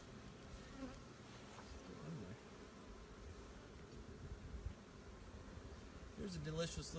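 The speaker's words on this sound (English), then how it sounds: "these bees are enjoying that honey right there" Faint, steady buzzing of honey bees close by at a hive as they feed on honey, with a few louder passes near the end and a low background hum.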